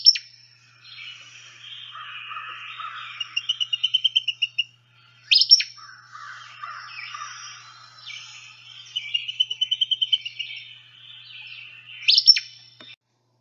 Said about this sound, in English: that is the song of the Acadian flycatcher